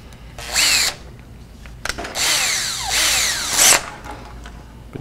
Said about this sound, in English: We're going to drill these keys on here.